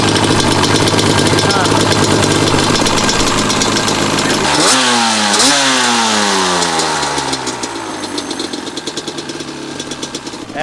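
A 1997 Yamaha Banshee ATV with Lectron carbs runs loud and close, a rough two-stroke idle that sharpens into quick revving blips midway, then settles back.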